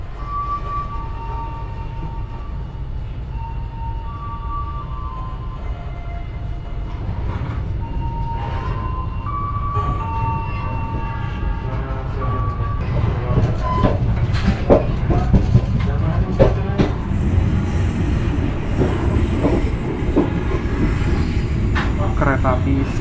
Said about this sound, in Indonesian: tadi itu kereta api Ciremai dari arah sana ya